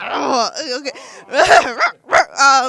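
A person imitates a dog, voicing a string of yelping barks and whiny howls, loud and close, in uneven bursts.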